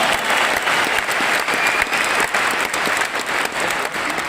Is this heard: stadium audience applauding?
yes